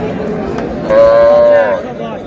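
A cow with calf lows once at a rural cattle market in Dinajpur, a single loud, steady moo of about a second rising over the murmur of crowd chatter.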